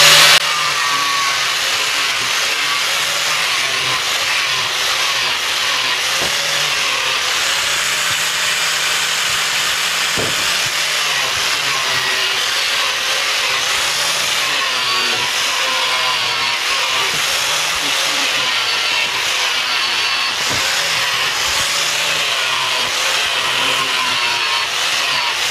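A power tool buffs a weld joint in loud, continuous, steady grinding and whirring throughout, with a few faint knocks underneath.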